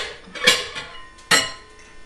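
Kitchen bowls clatter as they are pulled out during sauerbraten prep, giving two sharp ceramic clinks about a second apart with fainter knocks between, close by and without talk.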